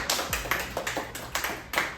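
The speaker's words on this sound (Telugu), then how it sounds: "Okay, claps. ఎంకరేజ్." A group of hands clapping in encouragement during a kids' sorting challenge, a quick run of roughly eight sharp, even claps, close and alone.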